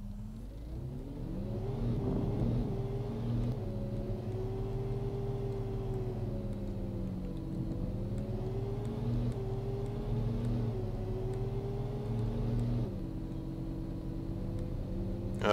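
A steady mid-pitched vehicle engine drones for the whole stretch while driving in the farming game Cattle and Crops, its pitch rising and falling gently with throttle changes. The engine is close, constant, and has no voices over it.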